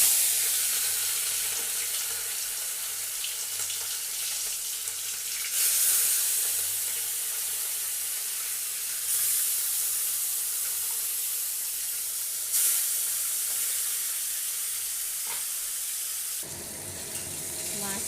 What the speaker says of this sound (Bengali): কড়াইয়ের তেলটা গরম হয়ে গেছে। এবার একে একে মাছগুলো দিয়ে দিচ্ছি